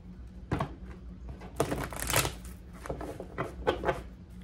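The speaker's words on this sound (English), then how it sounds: "I'm just gonna give it a shuffle." Deck of tarot cards being shuffled by hand, a series of quick riffling bursts and soft papery slaps, close and fairly quiet, with no talking.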